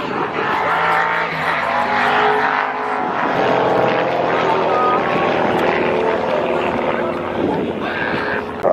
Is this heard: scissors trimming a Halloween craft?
no